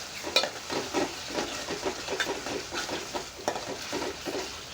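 A chicken tomato curry is stirred in a pan, with repeated scraping strokes of the spoon in an uneven rhythm over a soft, steady sizzle, close up and without speech.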